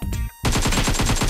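An AKM rifle firing full-auto at a training target in PUBG Mobile: a short pause, then a loud, dense, rapid burst of gunfire that runs to the end.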